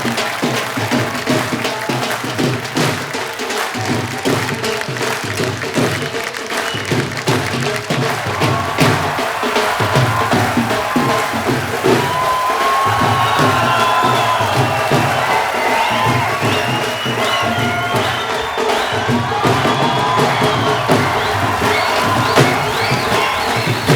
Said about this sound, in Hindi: जोरदार तालियों से एक बार स्वागत कीजिए